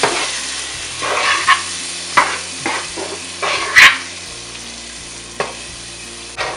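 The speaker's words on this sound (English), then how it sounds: "Give it a good stir. Let it mix with the oil" Onions fry in oil for Nigerian egusi soup, sizzling continuously while a spoon stirs and scrapes the pot in uneven strokes, with occasional sharper knocks of the utensil against the pan.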